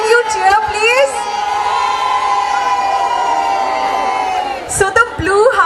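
A school-house crowd at an open-house event cheers on request, its sustained whooping and shouting swelling loudly for several seconds with short bursts of noise at the start and end.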